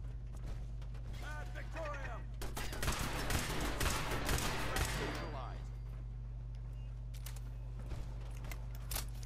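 Turret gunfire in Fallout 4 inside a synth-compromised facility, heard as a dense clattering burst of shots over a constant low hum, fading after a few seconds into quieter background ambience.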